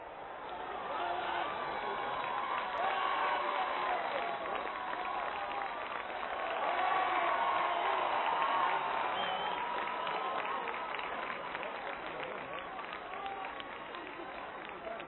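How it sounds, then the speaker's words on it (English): A dense crowd of men and women fills the Mall leading to Buckingham Palace on VE Day, a steady roar of cheering and applause swelling slightly midway, heard as an old, band-limited recording. "The Mall, leading to Buckingham Palace, is a solid mass of cheering men and women."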